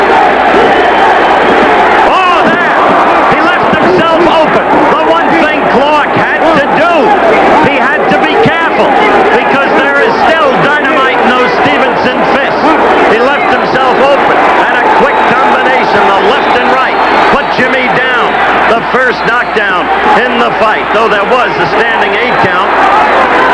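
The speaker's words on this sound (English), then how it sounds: "Crowd booing incessantly now, booing the referee." Boxing crowd at a 1980 USA vs Cuba amateur bout keeps up loud, continuous booing of the referee, with shouts and whoops rising out of a dense roar of voices.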